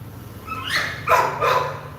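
Dogs bark in short bursts on an Istanbul street where a walker leads three dogs, the barks moderately close over steady outdoor background noise.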